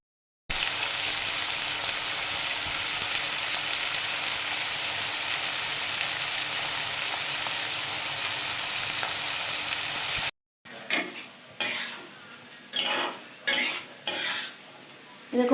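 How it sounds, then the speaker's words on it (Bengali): Potatoes fry in a pan as a long, even, close sizzle. After a brief break, a utensil stirs them in separate bursts of scraping and clattering against the pan. "তাই আবার এখন আলু ভাজা বসালাম।"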